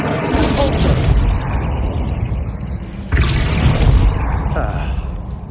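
A fire spell cast in a fantasy video game set in a wizarding world, a loud roaring burst of flame that rumbles steadily, with a second surge of blast about three seconds in, no talking.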